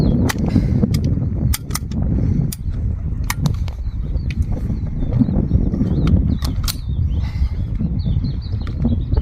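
A stiff-action toy rifle fires repeatedly, giving sharp cap-gun-like cracks at irregular intervals over a constant background hiss, loud and close, with no talking.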